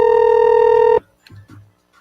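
A telephone rings with a steady two-tone electronic trill for about a second, loud and close, then stops; a brief voice follows quietly afterward.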